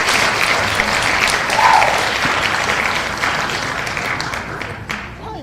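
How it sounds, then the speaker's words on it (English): Dense audience hand claps at a live gathering, a sustained loud wash of clapping that holds steady, then gradually thins and fades toward the end. "We can get some hand claps for that."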